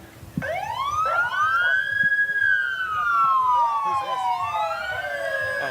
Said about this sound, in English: they turned the sirens off just in time